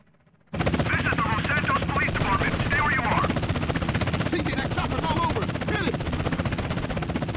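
A helicopter in Grand Theft Auto: San Andreas on PlayStation 2 roars in with a loud, steady rotor chop, mixed with bursts of gunfire while people shout and talk over it.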